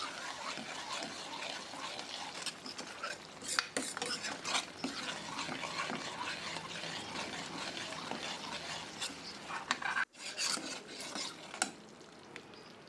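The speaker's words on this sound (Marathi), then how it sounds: "दही त्यामध्ये चांगले घोटून फिरवा, फाटू देऊ नका. तेल सुटेपर्यंत चांगले परतून घ्या." Yogurt masala stirred and sautéed in oil for a spiced cauliflower curry, a busy sizzle with frequent spoon scrapes and clinks against the pan, steady and fairly quiet, with one short cut.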